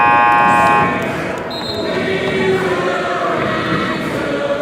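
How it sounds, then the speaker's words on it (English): A loud electronic buzzer blares at a college basketball game between South Plains College and Lamar Community College, a sustained tone cutting off after under a second, followed by arena crowd noise and chatter. "The first buzzer is a full timeout right there."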